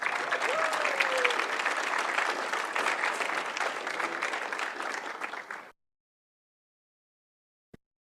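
Audience applause for a young poet laureate at a Toronto poetry month event, a dense steady clapping that lasts several seconds and then cuts off abruptly, followed by silence and one faint click.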